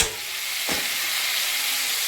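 Chunks of pumpkin and brinjal sizzle steadily in a hot pan, a dense, even frying hiss close by with one brief scrape of stirring near the start, and no talking.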